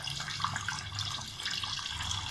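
Water pours from a glass into a pot of mutton aloo gosht, a soft, steady trickling splash heard faintly and alone.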